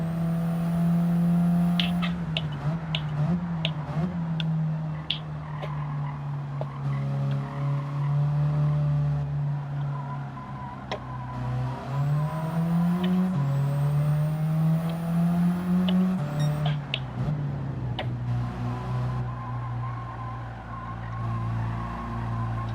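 A turbocharged car engine in Gran Turismo 7 racing, droning and revving loudly as gears change and pitch climbs and falls, with tire squeal and skidding throughout and no speech.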